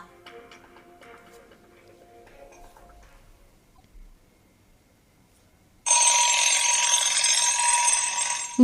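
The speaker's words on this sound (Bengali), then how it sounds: "ঘড়িতে অ্যালার্ম দেয়া থাকে ভোর পাঁচটায়" An alarm clock ringing at five in the morning in a horror audio story, a loud continuous bright ring starting suddenly after quiet and holding steady to the end.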